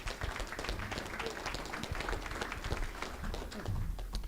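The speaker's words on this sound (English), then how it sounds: "if we could thank them, give them a round of applause for their effort" Audience applause at a renewable energy workshop before a lunch break, dense continuous clapping from a room of people at moderate volume, steady throughout with no talk.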